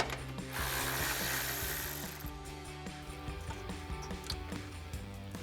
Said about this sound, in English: We're going to use a 10 mil socket to remove that out of the way.